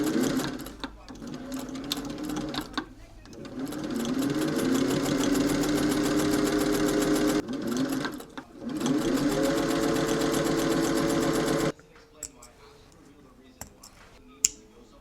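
Sewing machine stitching one seam after another on rectangular fabric pieces for a bubble skirt, a steady close whirring run in several long bursts separated by brief pauses, then quiet handling noises with a sharp tick near the end.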